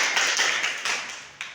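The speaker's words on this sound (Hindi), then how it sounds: "शाबाश, तालियां बजाओ उसके लिए" Schoolchildren in a Class 3 maths lesson clap for a classmate, a brief burst of several quick, uneven claps fading out within about a second and a half, with a final clap near the end.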